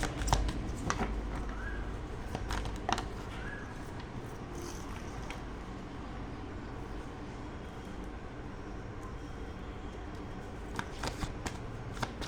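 Tarot cards being shuffled by hand, a continuous soft riffling and sliding of card stock close to the listener, with occasional sharper taps as the deck is handled.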